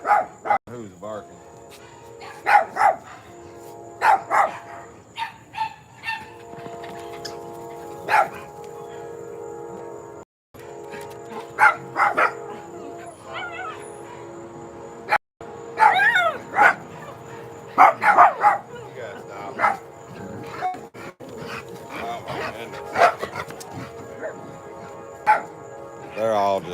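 A dog barks repeatedly in scattered bursts, some yips and whimpers mixed in, over a faint steady hum in the background.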